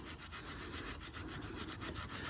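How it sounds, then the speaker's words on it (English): Sandpaper rubs against the surface of a Minarelli horizontal scooter exhaust pipe before gluing, with quick repeated back-and-forth scratching strokes in a steady rhythm, close and fairly quiet. "Basically every part that's gonna get glue has to be sanded."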